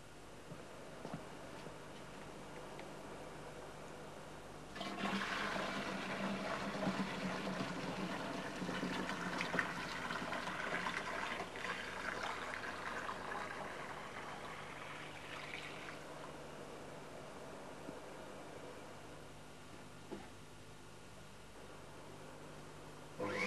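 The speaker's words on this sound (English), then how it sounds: "apply the wet and dry vacuum using the special machine" A wet and dry vacuum machine filled with low-foam detergent and water cleans train upholstery, its faint hiss and suction rising after a few seconds, holding steady for about ten seconds, then falling back to a quiet hum.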